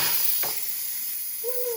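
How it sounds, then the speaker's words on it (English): A quick cooker vents its steam pressure with a steady, close hiss over a short stretch, joined near the end by a faint whistling tone. "I'm just going to release it now."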